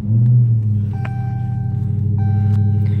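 A 2016 Dodge Charger SRT Hellcat's supercharged engine fires up with a loud, close burst, then settles into a deep, steady idle rumble with slight pulses.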